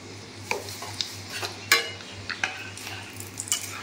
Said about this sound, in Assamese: এয়া মোৰ তেল গৰম হৈ গ'ল ইয়াতে মই দি দিম গৰম মছলা অকণমান